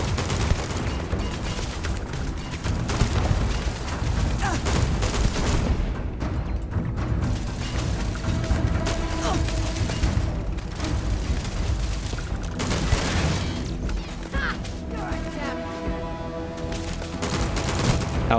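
Automated turrets firing in the space game Starfield, a dense, continuous barrage of loud blasts and booms over nearly twenty seconds, with shifting layers of clatter and mechanical tones.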